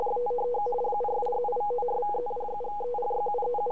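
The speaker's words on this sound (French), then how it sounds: "C'est les deux tonalités que vous entendez qui passent rapidement de l'une à l'autre." Two steady radio tones, received on an SDRPlay RSP1A receiver, switch back and forth rapidly in an irregular pattern over a faint noise floor. They are clear and continuous throughout, with no speech.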